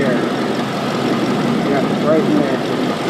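Work truck engine idling with a leaking exhaust manifold gasket, a steady low rumble and a continuous airy blow close by, holding constant at high level throughout.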